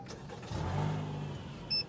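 A Honda Odyssey family minivan with modified air suspension starts up, its engine catching with a brief rising hum that settles, fairly quiet and close, followed by a short sharp click.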